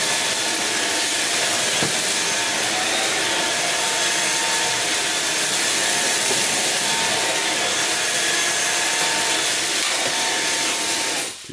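A JIMMY JV85Pro cordless vacuum cleaner runs steadily with a bright, hissing whine and a thin tonal note, close and continuous for the whole stretch before cutting off abruptly at the end.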